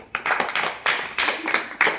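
Children clapping for a classmate named Pranit, several quick bursts of hand claps in short uneven rhythm, close and clear.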